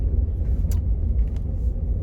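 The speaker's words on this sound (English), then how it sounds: "this truck just sitting here at the light" A truck sits idling at a traffic light, a low steady engine rumble close by, with a couple of faint brief clicks or taps over the drone.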